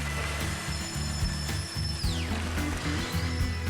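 An automatic machine presses protection tape onto aluminium sections and cuts it off, producing steady mechanical motor hum with rhythmic pulsing thumps, plus a high whine that sweeps downward and then rises again.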